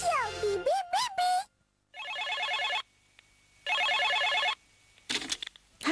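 A cartoon telephone rings in repeated trilling bursts, separated by short silences, after a quick rising and falling tone and a voice, with brief sounds at the end.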